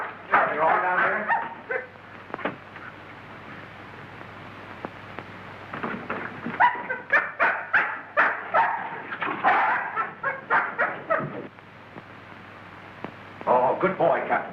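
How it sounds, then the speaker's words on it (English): A dog that has been struck a nasty blow whimpers and gives short barks in broken bursts, with voices talking around it in a 1933 film scene. "This dog's been struck a nasty blow."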